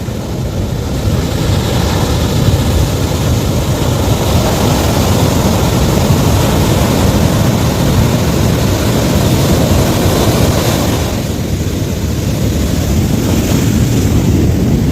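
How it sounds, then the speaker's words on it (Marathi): Loud, continuous roar of huge ocean waves crashing and churning on a beach, heavy wind rumble across the whole stretch, no voices. "तेवढ्या अजस्त्र लाटा उठत आहेत बघा"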